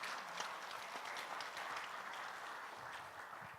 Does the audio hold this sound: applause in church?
yes